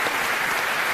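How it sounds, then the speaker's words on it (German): Dense, loud audience applause at a live event, a continuous broad wash of many hands clapping with no other sound. "würde ich Sie alle kollektiv mit einem großen Applaus verabschieden"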